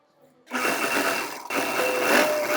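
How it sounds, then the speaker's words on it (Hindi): Electric sewing machine stitching fabric for a little girl's party-wear lehenga choli, a loud steady whirring run that starts abruptly, pauses briefly, then resumes close up. "अब मार्जिन को अटैच करने की सिलाई लगाएंगे"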